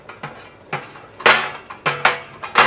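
Metal spoon clanks and scrapes against cooking pans while meatballs are stirred into sauce for Sunday gravy, several sharp knocks in uneven bursts, close and fairly loud, with no talking.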